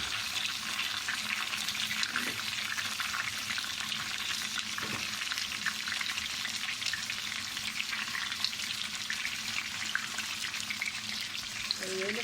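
Onions and tomatoes fry in a pan, making a steady, moderately faint hiss of sizzling that holds evenly throughout with no talking over it.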